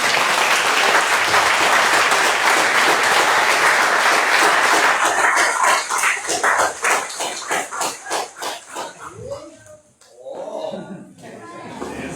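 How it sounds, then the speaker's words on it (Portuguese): A church congregation applauds loudly in a dense, sustained burst that breaks into separate claps and then fades, with voices and cheering mixed in toward the end. "você aplauda ao Senhor"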